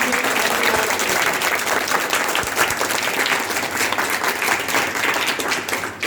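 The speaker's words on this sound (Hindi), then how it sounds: "एक बार अपनी तालियां बजा के बताएं।" Steady applause from a large audience, dense clapping sustained throughout at an even, loud level with no pauses.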